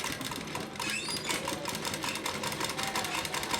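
A sewing machine runs a straight seam over folded fabric with elastic inside, a close, rapid clattering of needle strokes sustained evenly throughout without any speech.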